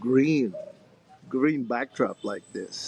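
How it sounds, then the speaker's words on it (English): Birds call in a backyard in the middle of a town in the Philippines, including soft dove-like cooing. The calls sit in the background beneath someone talking nearby. "You can hear some of the birds in the background."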